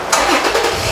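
A 2018 Toyota 4Runner with a misfire and one ignition connector unplugged cranks and fires up close by, a short starter whir catching into a steady running engine that holds loud for the rest of the second.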